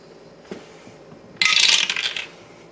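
A die is thrown for a board game, giving a brief knock, then about a second of loud rattling and clattering as it tumbles across a hard surface before settling.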